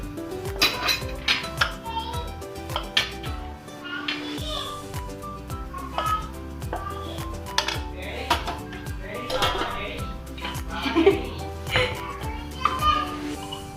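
Dishes and cutlery clink and clatter close by as a mother serves food in a home kitchen during a busy morning, with repeated metallic scrapes and taps and a voice talking over it.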